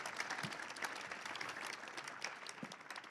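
Audience at the Drive to Zero 2023 event on zero-carbon mobility in Europe clapping for the show's director, a fairly soft, continuous patter of many hands heard from some distance.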